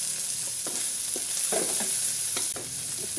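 Garlic and onion sautéing in oil for sarciado with malunggay, a steady close sizzle broken by several sharp scraping stirs of a utensil in the pan, with no voices.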